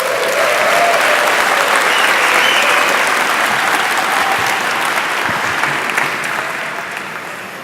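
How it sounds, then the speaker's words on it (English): Loud, sustained applause from a large audience at a blockchain hackathon award show, thick steady clapping that tapers off gradually over the last couple of seconds. "Please give a huge round of applause for Prince Constantijn."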